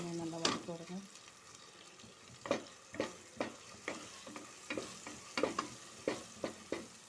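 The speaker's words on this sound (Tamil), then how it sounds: "எல்லாமே நல்லா வதக்கி விடுங்க." Chicken with long-slit green chilies sautéing in oil, stirred with a spatula: a steady low sizzle broken by repeated scraping strokes roughly every half second, close and moderately loud, with no talking.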